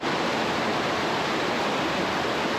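A river flows through remote bush country, a dense, steady broadband rush of water that stays loud and unbroken throughout with no voices.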